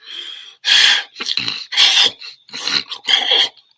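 A voice mimics an animal's labored gasping, a series of six or so loud, raspy breaths in an uneven rhythm, close up.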